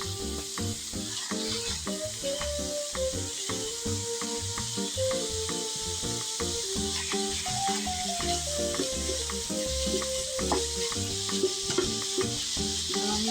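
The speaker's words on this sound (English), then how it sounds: "I'm going to go ahead and add my ground beef to the pan and just get it cooked up" Ground beef fries in a pan with a steady loud sizzle, while a utensil scrapes and breaks up the meat in irregular knocks, close and with no talk.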